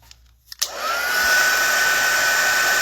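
After a couple of faint clicks, a heat tool switches on and blows hot air loudly and steadily for heat setting a craft piece, with a thin whine riding over the rush and no talking.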